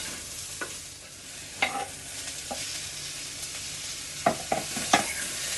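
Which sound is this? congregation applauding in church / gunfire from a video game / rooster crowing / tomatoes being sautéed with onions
tomatoes being sautéed with onions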